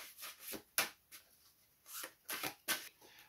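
A deck of board game cards is shuffled by hand, giving several quiet riffling and rubbing bursts in an uneven rhythm, close and soft, with no voice.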